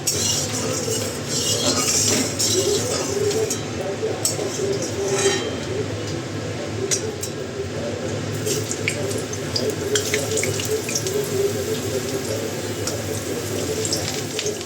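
Tap water running into a kitchen sink while dishes are washed, a steady close rush of water with occasional clinks of utensils throughout.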